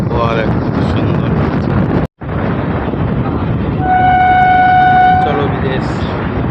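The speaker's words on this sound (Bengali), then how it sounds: "ট্রেন এখন আমাদের ছেড়ে দিয়েছে। এবার যাচ্ছি ঝিকঝিক ঝিকঝিক ঝিকঝিক" A moving passenger train rumbles steadily with loud wind buffeting the microphone, and a high whistle-like tone rises in the second half; a person speaks over the noise.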